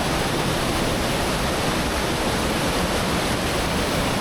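Nambi Waterfall in Chhattisgarh, a steady, dense roar of falling water that stays loud and unbroken throughout, with no voices.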